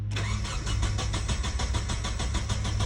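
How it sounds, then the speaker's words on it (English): A Nissan 240SX engine cranks over with a steady, rapid rhythmic chugging of the starter, loud and close, continuing without catching for the whole stretch. "let's go ahead and crank this thing over"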